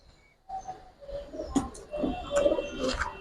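Giribaz coloring pigeons at a sale coo in soft, close, repeated throaty phrases, with a few sharper chirps rising over a quiet background.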